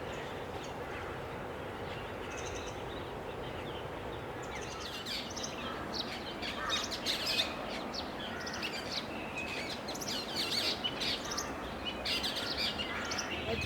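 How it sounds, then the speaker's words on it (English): Birds chirp and call from nearby trees in Manali, Himachal Pradesh, in December, a busy chorus of short bright tweets over a steady outdoor background hum, growing livelier partway through. "the nearby trees were full of interesting birds."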